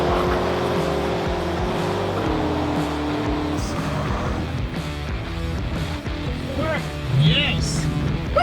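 A restored 1957 Chevy Bel Air with a stuck brake, on a test drive through streets in Mexico, its engine droning steadily and rising and falling under continuous talk from the people inside.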